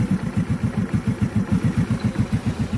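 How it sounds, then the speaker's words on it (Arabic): A SANYA motorcycle engine idles close up after a carburetor adjustment, its loud, even putter pulsing in a quick steady rhythm with a light mechanical clatter and no voices. "كما شاهدتو معانا الموتور باقي امارش وخا دورت ليه ديك الكربيراتور"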